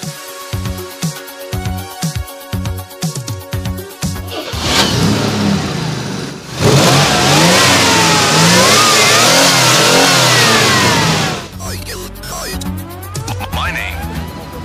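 A classic car engine at an outdoor classic car gathering: after a stretch of rhythmic background noise, the engine starts loud and close, revs in rising and falling surges, then drops off.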